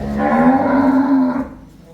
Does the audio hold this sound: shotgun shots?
no